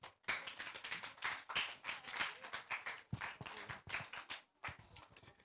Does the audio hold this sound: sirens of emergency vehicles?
no